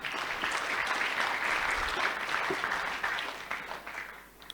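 An audience at the 2022 Africa Evidence Summit applauds its presenters: a full, steady round of clapping that holds for several seconds, then thins out and tapers near the end.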